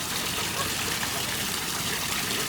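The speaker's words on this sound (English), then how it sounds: "there's nothing like a waterfall" Steady rush of falling water from a waterfall near Ames, Iowa on a hot sunny day, a continuous broadband wash without breaks.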